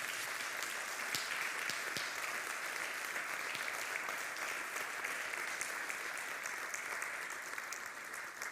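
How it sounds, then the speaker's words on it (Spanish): Faint, steady applause from a church congregation, a continuous even wash of clapping with no speech over it. "Denle un aplauso para Dios."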